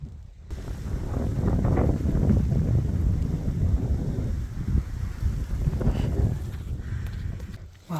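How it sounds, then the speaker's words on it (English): Steady wind gusts buffeting the microphone outdoors on a Utah mule deer archery hunt, a loud, low rumbling rush that swells and eases over several seconds with no talk. "this wind has been off and on, but it's kind of blowing right at him"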